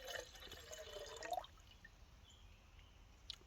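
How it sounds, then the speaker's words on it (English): Water pours into the Firemaple Star X2 camping cook pot, a faint trickling fill whose pitch rises over about a second and a half before it stops, leaving near-silence with a small drip. "So we're going to fill this up with water."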